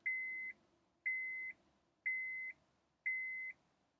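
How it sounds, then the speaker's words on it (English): A Honda car sounds four evenly spaced electronic beeps, each lasting about half a second and repeating once per second, clear and steady over a quiet background. "Honda beeps a lot."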